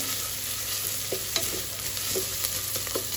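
Chicken leg pieces sizzling and frying in a pan for ghee rice, a steady crackle with occasional stirring clinks, close and fairly quiet.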